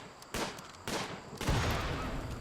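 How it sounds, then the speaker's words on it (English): Explosions in the video game Rimworld, during a rainy in-game scene, come as a quick series of sharp blasts, the last one larger and followed by a rumbling, crackling tail. "that was a bigger explosion than I expected"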